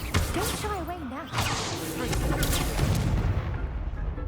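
The Incendio fire spell is cast in Hogwarts Legacy, a loud booming, crackling blast that swells and rumbles on under a voice talking at the start.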